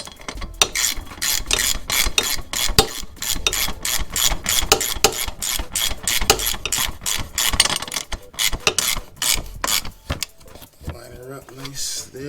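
A self-tapping screw is driven into a Can-Am Ryker skid plate with a ratcheting hand tool, giving fast, steady clicking ratchet strokes close up that continue for several seconds before slowing near the end.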